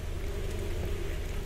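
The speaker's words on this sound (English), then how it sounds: "Wow, it's still raining." Steady rain falls in the video game Bunker 16, a brief, even hiss of drops on surfaces with a faint low hum beneath and no voices.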